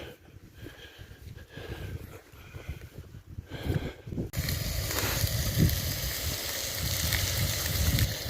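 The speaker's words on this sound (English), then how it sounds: "The ribeye cooking away there nicely." Ribeye steak sizzling in a pan at an outdoor wild camp, a steady close hiss that swells louder partway through, with wind and rustling around it.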